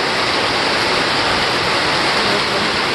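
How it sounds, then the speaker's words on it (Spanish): Dense, uniform rush of heavy hurricane rain pouring down, loud and close, a constant wash of noise with no pauses. "aquí llueve bastante"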